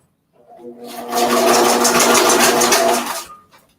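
A domestic sewing machine stitches vinyl in one close, loud burst of rapid mechanical whirring, about two seconds long, with a soft start and stop.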